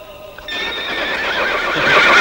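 A horse neighs loudly and clearly with clip-clop hoofbeats beneath it, a single sustained whinny rising in strength over about two seconds with no speech.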